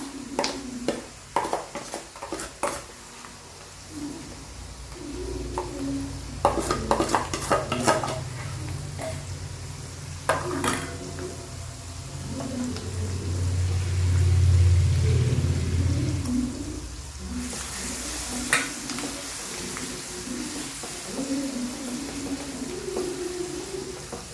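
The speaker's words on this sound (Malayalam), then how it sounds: "എണ്ണയിൽ കിടന്നിട്ട് ഈ മുളക് നല്ല മൂത്ത് വരട്ടെ കേട്ടോ" Chili powder soaked in vinegar fries in hot oil in a home kitchen, a soft continuous sizzle broken by bursts of metal spoon scraping and stirring against the pan, with no talking.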